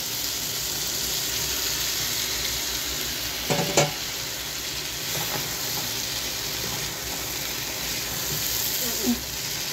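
Cauliflower hits a pan of hot oil and fries with a continuous hiss, a few sharp clanks of a spoon against the pan standing out over the sizzle.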